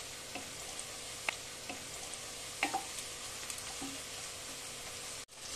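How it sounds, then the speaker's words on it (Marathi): Whole spices, including black cardamom, cinnamon pieces, black pepper, cloves and bay leaves, fry in oil for chicken pulao. A faint steady sizzle runs under scattered light clicks and stirs before a brief drop near the end. "एक काळी वेलची, दालचिनीचे तुकडे, काळी मिरी आणि लवंग आणि दोन तेजपत्ता मिक्स करून फ्राय करून घेऊ"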